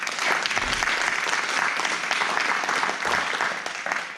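A church congregation bursts into sustained applause in praise of Christ during a Spanish-language worship service, dense clapping filling the room at steady loudness for the whole stretch.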